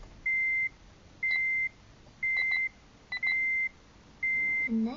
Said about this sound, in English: Enough with the beeping already.